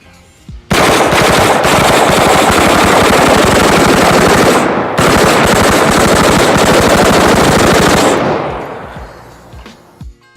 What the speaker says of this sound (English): have a CMMG mutant machine gun and a hell of a lot of explosives attached to it